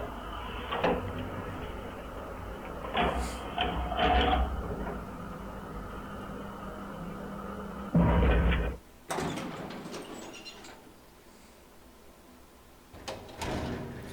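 An elevator in the horror game Cry of Fear: a mechanical rumble with clanks and sliding-door thuds, a loud slam near the middle, then a quieter hum broken by a few sharp metallic knocks.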